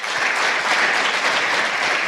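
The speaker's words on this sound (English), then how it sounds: "would you just give her a hand of applause?" A live audience gives a sustained round of applause for a woman being honoured at a talk, with dense, steady clapping filling the room at even volume throughout and no speech over it.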